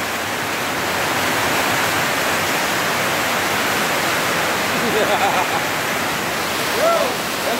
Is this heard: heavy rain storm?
yes